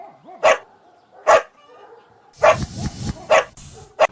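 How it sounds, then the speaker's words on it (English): A dog barks five times in short, sharp, evenly spaced bursts, loud and close, used as a sound effect in a children's alphabet song. "D for dog"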